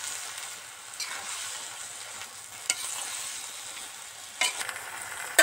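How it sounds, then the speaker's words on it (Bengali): Water spinach and chickpeas being stirred in a pan on the stove for a Bengali chachchari, with a steady sizzle of frying and occasional scrapes and clinks of the spoon against the pan. "এবার ভালো করে নেড়ে চেড়ে মিশিয়ে দেব।"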